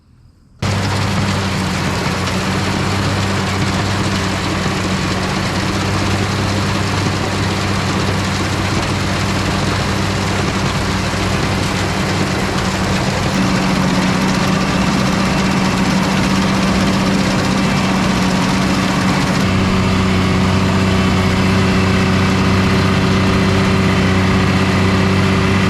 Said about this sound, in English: we're going to get into the field and start cutting with the swather